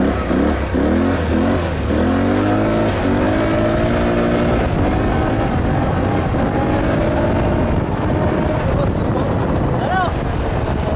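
A Yamaha Raptor 500cc quad revs and pulls along under way, its engine loud and close throughout, rising and falling in pitch with throttle, while voices speak over it.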